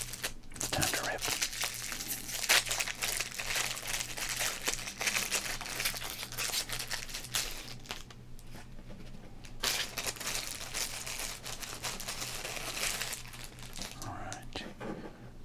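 Football trading card pack torn open up close, with crinkly plastic wrapper rustling and ripping in soft irregular bursts under quiet whispered talk.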